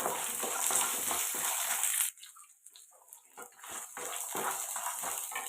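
Dried chillies, tamarind and garlic sautéing in a pan, a fairly quiet sizzle that cuts out abruptly for a moment and then resumes with soft stirring scrapes, no talking.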